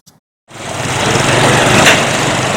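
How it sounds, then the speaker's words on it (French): A motorcycle engine in a busy city neighbourhood street roars in loudly after a brief silence, then holds a dense, steady, close drone. "Ce bruit étourdissant de moto, où Sénéto l'écoute à longueur de journée"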